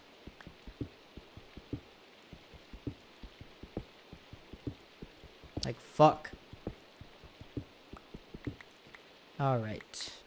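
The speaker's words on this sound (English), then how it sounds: "So, I wish it would stop raining." Rain in Minecraft patters as steady, evenly spaced drops on a surface, quiet and constant, with someone speaking briefly over it.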